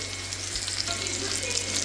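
Salmon fillets fry in hot oil in a pan, giving a steady, close, continuous sizzle with faint crackles throughout.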